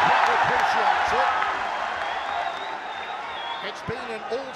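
A crowd at a ONE Championship mixed martial arts event reacts to a strike with a broad, fading roar and scattered applause beneath a commentator's voice.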